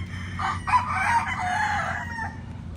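White Kelso gamefowl stags crow once at moderate distance, a drawn-out cry lasting about two seconds over a low background hum.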